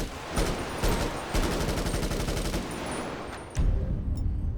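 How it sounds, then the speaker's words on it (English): Realistic modded gunfire in GTA V, loud rapid automatic bursts with dense repeating shots, a short pause, then another heavy volley close up. "It changes your gun sounds."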